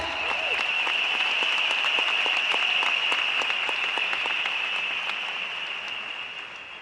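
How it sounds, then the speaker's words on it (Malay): A stadium audience applauds for Francisia, a dense, steady wash of clapping that holds loud for several seconds and slowly begins to thin toward the end, with no voices over it. "saya jemput tepukan Anda, tepukan kepada Francisia yang membantu saya mencari impian saya"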